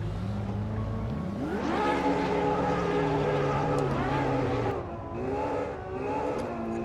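Ferrari 812 Superfast V12 held at steady revs, then launching hard with a loud rising howl through the gears, a sharp drop at an upshift and renewed climbing, close and continuous.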